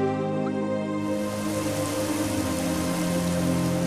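Rain pours steadily in an animated cartoon, a dense continuous patter of drops on a surface that stays loud and unbroken throughout, layered over a soft sustained background tone.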